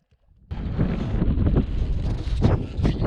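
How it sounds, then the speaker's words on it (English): Loud, blustery wind roars across the microphone in strong continuous gusts on a mountain ridge of Borah Peak, Idaho, after a brief quiet start, buffeting and rumbling without letup. "as you can probably hear, it's getting pretty windy up here"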